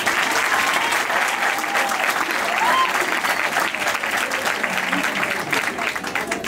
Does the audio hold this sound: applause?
yes